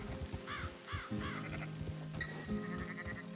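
Sheep bleating in the video game Red Dead Redemption: several short, wavering bleats from a small flock, moderately near, over a steady bed of low game ambience and other animal calls.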